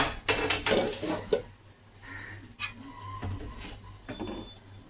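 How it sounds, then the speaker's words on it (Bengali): A metal lid lifts off a cooking pot of simmering taro curry, producing a few close clanks and scrapes of metal on metal, followed by softer clinks and faint kitchen rattles. "একবার ঢাকা তুলে দেখি"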